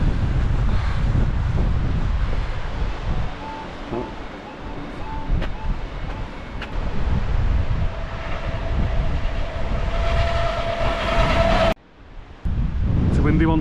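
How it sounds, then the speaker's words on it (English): Strong Storm Debi winds gusting to 67 mph on a coastal footpath heading toward the beach. A heavy, continuous roar buffets the microphone close up and drops out abruptly for a moment near the end. "It's a windy one today."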